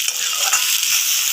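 Chopped tomato dropped into a pan of frying onions sets off a loud, steady sizzle with a bright hiss that fills the short moment, no voices.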